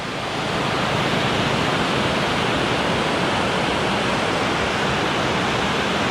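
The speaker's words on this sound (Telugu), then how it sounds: "ఇది వలరా వాటర్ ఫాల్స్." Valara waterfall near Munnar, Kerala roars in a steady, loud, broadband rush of falling water, continuous throughout with no voices.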